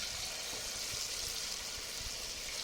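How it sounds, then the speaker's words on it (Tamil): Chicken pieces frying in hot oil, a dense, even sizzling hiss held steady and close for the whole short stretch. "நம்ம சிக்கன் எண்ணெயில் போட்டு பொரிச்சிக்கலாம்"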